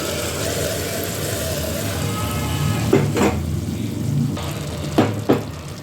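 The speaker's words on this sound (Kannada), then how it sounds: "ರುಬ್ಬಿರೋ ಮಸಾಲೆನ ಇದಕ್ಕೆ ಹಾಕೋತಾ ಇದ್ದೀನಿ." Ground masala for an avarekalu sambar sizzles in a pan, a steady frying hiss with a few clinks and scrapes of a spoon against the pan in the later seconds.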